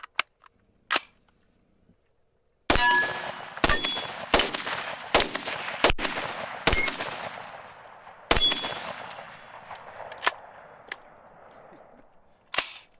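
Rifle chambered in 7.62x39 built on an AR platform, fired outdoors: a single shot, a pause, then a rapid string of loud sharp reports with ringing decay, a brief gap and a final few spaced shots.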